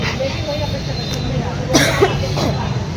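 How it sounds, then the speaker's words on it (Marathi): A person coughing a couple of times while out eating pani puri, short harsh bursts near the middle of the clip over a constant background of voices and street noise. "एवढा खोकला झाला तरी पण"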